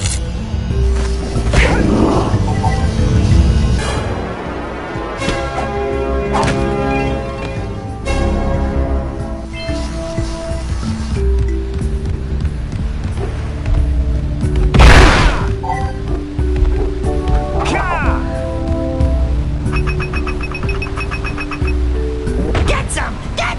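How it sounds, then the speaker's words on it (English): Cannon blasts and booming impacts from the platformer Jak and Daxter: The Precursor Legacy, with a few heavy, loud explosions spaced across a bright, layered game soundtrack. "Let's use the cannon to blow"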